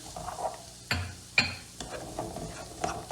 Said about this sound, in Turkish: Ve şöyle sebzeler diriliğini kaybedene kadar soteleyeceğim.